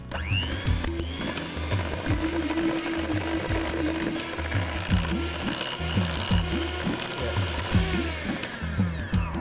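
An electric mixer beats cream cheese batter for a cheesecake, giving a loud, continuous motor whir with a rhythmic churning pulse that runs steadily throughout at close range.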